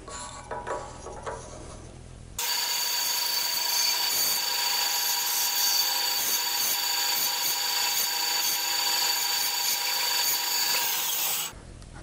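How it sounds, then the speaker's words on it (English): A bandsaw cuts and carves a wooden blank for an oversized pencil, shaping a taper: a loud, steady whirring cut that runs for about nine seconds after a short lead-in, then stops abruptly. "I'll get this carving process started on the bandsaw."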